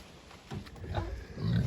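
Pigs on a farm in cold weather give low grunts and snuffles at close range, growing louder toward the end, with rustling in the background and no talk.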